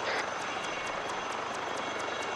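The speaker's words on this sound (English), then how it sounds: "let's go ahead and take the helicopter and get it out of here" Helicopter in the Arma 3 military video game, a steady loud rotor and engine roar with regular blade-slap pulses, close and continuous throughout.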